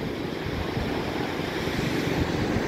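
Ocean waves wash onto Sine Beach in Tulungagung in a continuous broadband rush, blended with heavy wind buffeting the microphone, steady and fairly loud with no voices.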